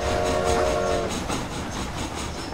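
A train runs in Red Dead Redemption: Undead Nightmare, heading toward Mexico. It gives a steady, loud rumbling clatter, with a brief whistle-like tone in the first second.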